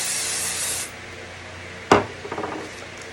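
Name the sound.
spraying from a spray bottle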